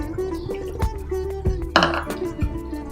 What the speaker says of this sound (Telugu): కొంచెం నీళ్ళు పోసేసుకుందాము.